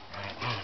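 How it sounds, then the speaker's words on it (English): Several playful puppies, parvo survivors including black and tans, yipping and barking in short overlapping bursts close by, a busy continuous scuffle of small dog voices. "This goes on all day,"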